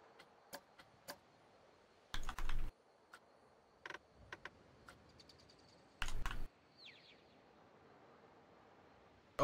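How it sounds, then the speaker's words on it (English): Key clicks from a mechanical gaming keyboard, sparse single taps and two short bursts of rapid typing, close and crisp in a quiet room with no talking. "That's what you're hearing is the clicks on the keys."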